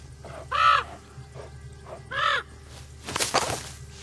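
A crow calls twice, with two harsh, drawn-out caws about a second and a half apart, fairly close. A burst of rustling or flapping noise follows.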